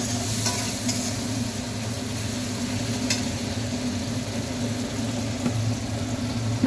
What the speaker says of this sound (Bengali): তারপরে দেবো এর মধ্যে গরম জল। একটু আমি গরম জল দিলাম।